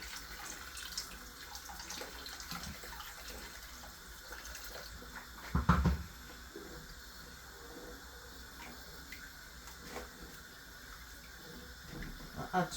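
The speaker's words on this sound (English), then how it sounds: "So I'm going to add a bit of water." Tap water runs steadily into a large batch of pasta bolognese sauce, a continuous close wash of splashing and trickling with one brief louder knock partway through.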